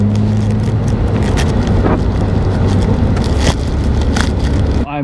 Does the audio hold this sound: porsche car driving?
yes